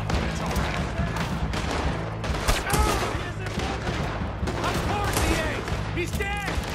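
Rapid gunfire and heavy shootout bursts fill a Red Dead Redemption 2 bank robbery in Saint Denis, continuous and loud under shouted voices.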